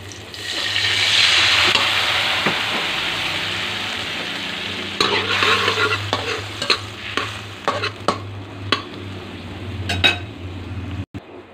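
Red onion sautés in a pan for tilapia steak, a steady hiss of oil that fades a little while a utensil clinks and scrapes in sharp, repeated taps toward the end.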